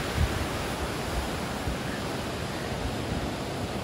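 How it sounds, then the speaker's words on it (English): Surf at Pismo Beach at mid-tide, a continuous broad wash of rolling waves, steady and fairly loud with a slight wind rush and no voices. "The tide rolls in so calmly."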